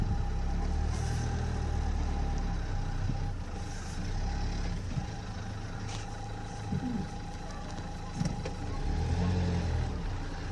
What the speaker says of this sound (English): Every time I rev up the engine,